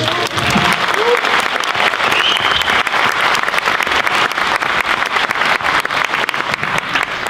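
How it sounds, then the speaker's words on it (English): An audience at a grade 5 moving-up ceremony applauds in a loud, dense, steady wash of clapping that holds for several seconds, with a brief cheer or whistle rising above it near the start. "that will be the first of many rounds of applause"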